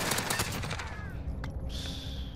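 Rapid automatic Grau 5.56 rifle fire in Modern Warfare, a fast dense burst of shots up close that cuts off after about a second, followed by faint ringing game sounds.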